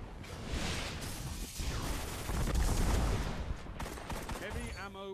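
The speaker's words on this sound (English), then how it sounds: "Let me just use all my bullets on this one guy." Sustained gunfire in the video game Control: a dense, continuous barrage of rapid shots with crashing impacts, loud and unbroken for several seconds.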